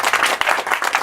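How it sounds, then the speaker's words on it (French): Short burst of applause at a 2018 press briefing, dense close clapping from a small group lasting about a second. "Donc on peut quand même l'applaudir."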